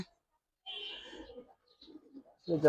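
A Giribaz pigeon gives soft, intermittent coos in short bursts, close and fairly quiet, with a brief louder sound at the end.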